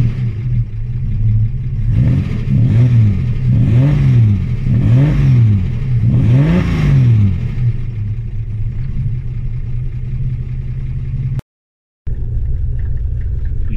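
An idling car engine with a new aluminium radiator and cooling fans is blipped repeatedly, about five loud rising and falling revs over a rumbling idle, close by, before settling back to a steady idle.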